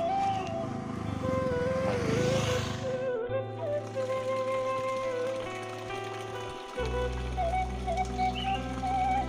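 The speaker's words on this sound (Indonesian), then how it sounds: "ada motor lewat" A motorbike passes along a narrow road in the rural Jampangkulon countryside, its engine drone rising and shifting in pitch as it goes by close and fairly loud, with steady low rumble throughout.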